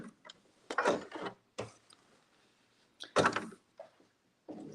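A sewing machine stitches a free-motion quilted leaf outline on a boho floral quilt block, in short bursts of rapid mechanical clatter that stop and restart with quiet pauses between, close and fairly loud, with no talk.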